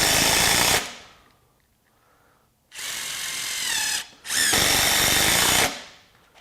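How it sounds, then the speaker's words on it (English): A Ryobi HP impact driver drives screws into wood in three loud, close bursts of rapid hammering whine, with short quiet gaps between them and no talk. "So that's no problem for the impact driver."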